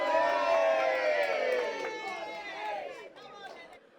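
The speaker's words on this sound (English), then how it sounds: "you're going to give a big cheer for Lenny in the final" A crowd at Romford greyhound stadium cheers and whoops for the greyhound Whitewood Lenny ahead of the final of the Coral Golden Sprint, a loud burst of mixed shouts and voices that gradually tails off.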